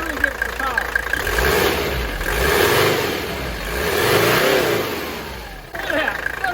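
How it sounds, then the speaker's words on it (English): A diesel engine revved hard in several rising and falling surges, close and loud, with a rough, knocking undertone between the revs. "the real test is when I accelerate the engine"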